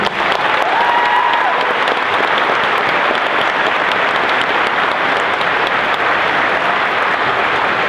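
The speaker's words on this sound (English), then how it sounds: "One more round of applause, please" A large crowd at a valedictory ceremony gives valedictorians a loud, sustained round of applause, a dense unbroken wash of clapping that holds steady throughout, with a brief tonal whistle or squeal early on.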